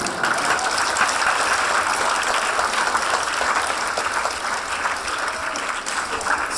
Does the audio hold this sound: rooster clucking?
no